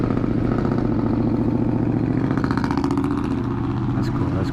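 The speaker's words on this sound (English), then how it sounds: "that loud truck, you know, gotta let everybody know you're driving that truck, and it's loud" A loud engine rumbles nearby with a steady, throbbing low chug, fading slightly toward the end as it passes, while a person talks over it.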